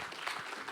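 Brief burst of audience clapping at an AI agent demo day, dense and continuous through the short moment, with no talk over it.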